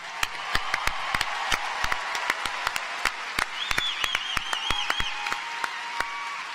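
Commencement audience applauding the 2025 graduating class of the College of Natural and Agricultural Sciences at UCR: steady crowd clapping with sharp individual claps standing out, plus a brief whistle-like tone in the middle.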